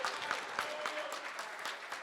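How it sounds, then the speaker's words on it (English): A wedding audience applauds the father of the bride, a steady patter of clapping hands from a modest indoor crowd, moderately loud and sustained throughout. "Father of the bride, Mike, let's give him a big round of applause."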